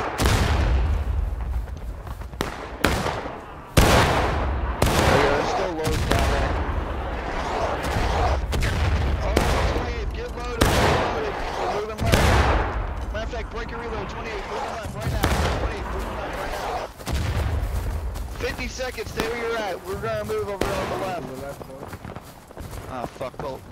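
Musket volleys in the video game War of Rights, an irregular string of loud sharp cracks, some close and some distant, scattered over rumbling battle noise while players talk over them.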